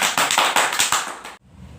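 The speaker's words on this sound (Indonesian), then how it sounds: "Oke, tepuk tangan dong buat kita semua" A classroom group claps hands in a brief, lively burst of quick, loud, overlapping claps that stops abruptly after about a second and a half, leaving near silence.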